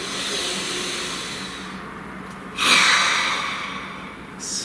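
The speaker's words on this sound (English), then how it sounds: "Please take a nice deep breath." A deep breath drawn in with a soft hissing inhale, swelling to a louder airy rush midway, then tapering off, with a short breathy sound at the end; close and alone.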